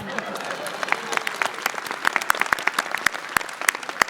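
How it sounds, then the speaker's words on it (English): A small crowd at a live board game show at PAX Unplugged 2024 claps in scattered, uneven applause for several seconds, the claps sharp and close, with some voices mixed in. "Thanks for the applause."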